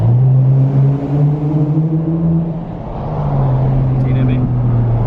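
Loud, steady engine rumble from city road traffic in Atlanta, heard from close range as a vehicle idles and creeps along, with a low droning hum throughout and a brief dip midway.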